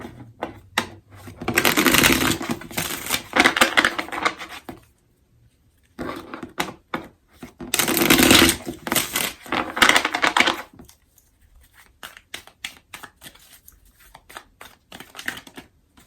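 A deck of tarot cards is shuffled by hand in two long, crisp riffling bursts separated by a short pause, followed by softer scattered taps and flicks of cards being handled, close and clear with no talking.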